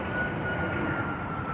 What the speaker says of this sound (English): So here go the plane flying by.